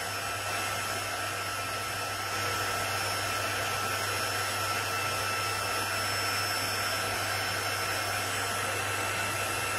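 A heat tool blows with a steady, loud, continuous whirring hiss while it melts embossing powder, unbroken for about ten seconds with no talking.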